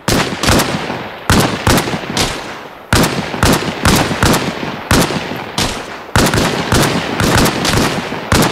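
Gunfire in the military shooter Arma Reforger: loud, close rifle shots crack out in sharp repeated bursts, some doubled, roughly every half second to second, with no voices heard.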